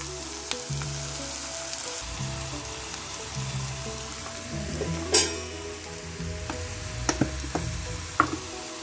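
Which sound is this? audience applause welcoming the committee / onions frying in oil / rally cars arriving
onions frying in oil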